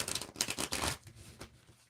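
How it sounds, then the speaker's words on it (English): Tarot cards riffle together in a quick, crisp flutter of rapid clicks, close and fairly soft, tapering off after about a second. "we are going to just mix and match the cards up, a little bit of mix and match, and then come do another little shuffle."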